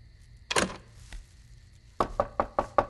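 Knocking on a door at night: one hard knock burst early, then after a pause a rapid series of five sharp, evenly spaced raps, loud and close with no talking.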